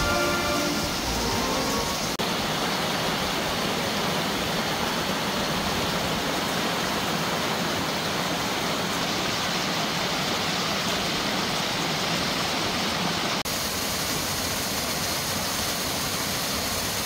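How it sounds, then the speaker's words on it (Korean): A mountain waterfall on Juheulsan roars in a steady, loud, unbroken wash of rushing water that fills the whole stretch, with no voices. "웅장한 폭포와 마주하여 폭포수 소리가 요란합니다"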